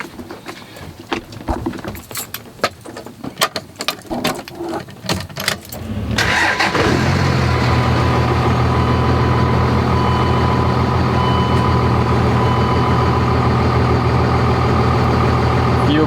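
A Dodge Ram 2500 pickup truck: a few seconds of clicks and rattles, then the engine cranks and fires and settles into a loud, steady, rumbling idle close by.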